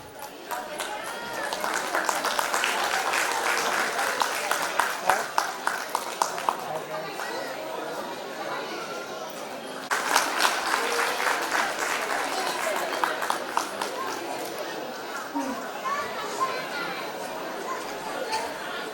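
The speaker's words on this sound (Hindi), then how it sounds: "तालियां बजाते रहिए." An audience at a school annual function applauds at length in a steady wash of clapping that swells again midway, with crowd chatter and an announcer's voice over it.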